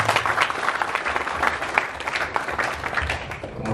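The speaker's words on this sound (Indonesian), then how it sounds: "Aplaus buat manajemen." Applause for the management at a union and management iftar gathering: a crowd claps steadily and fairly loudly throughout, a dense patter of hands with no break.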